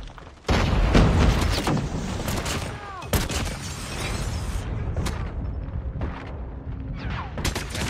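A new shotgun fires long-range shots in a video game, with loud booming blasts and crackling bursts in quick succession over dense, continuous battle noise.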